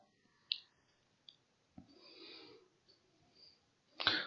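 Computer mouse clicks come as a few sharp isolated ticks spread apart, with a soft rustle between them and no talking.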